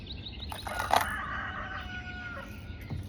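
A rooster crows once at a moderate distance, drawn out and slightly hoarse, over steady outdoor background noise.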